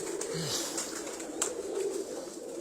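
Tournament racing pigeons coo in a soft, low, rolling murmur against steady background noise, close by but faint, with a brief chirp partway through.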